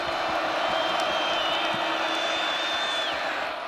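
A large stadium crowd at a Kansas football game against Colorado gives off a broad, steady roar of cheering, with a few whistles rising above it and no single voice standing out.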